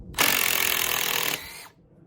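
A DeWalt impact driver drives a screw into wood in one loud, continuous burst of hammering rattle lasting just over a second, then spins down briefly and stops.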